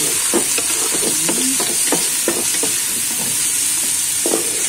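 White onion sizzles steadily in a hot frying pan, with a continuous bright hiss and scattered spatula scrapes and taps as it is stirred, close and alone.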